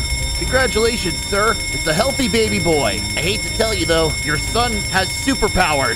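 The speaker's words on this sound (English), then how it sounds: "that's a fire alarm" A fire alarm rings continuously through a busy scene, its steady tones running beneath constant overlapping speech.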